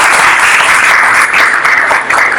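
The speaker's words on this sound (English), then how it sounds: "but how about a round of applause?" An audience gives a round of applause for a guest, sustained dense clapping that holds steady and dips briefly near the end, loud and close with no talk.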